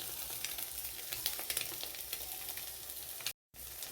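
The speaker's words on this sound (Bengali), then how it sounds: "ডিমের এক পাশেই পেঁয়াজ দিয়ে দেবো।" Onions sizzle in hot oil in a pan beside eggs, a steady bright frying hiss with small crackles and pops throughout, close and continuous, cut by a brief silent gap near the end.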